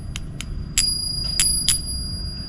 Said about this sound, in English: Oh, that's a nice ring.